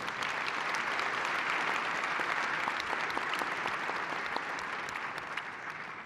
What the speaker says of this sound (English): Let's give the panelists a great big round of applause.